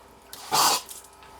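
Water and trapped air spit out of a house's water lines at a tap in one sharp, sputtering burst, with quieter hissing before and after.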